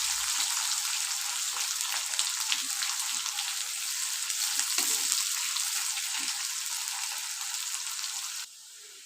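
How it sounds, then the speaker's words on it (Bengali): Thinly sliced onions frying in oil in a pan until golden brown, a steady, close hiss and crackle of sizzling with faint stirring clicks, fading slightly near the end. "পেঁয়াজটা গোল্ডেন ব্রাউন কালার করে ফ্রাই করে নেব।"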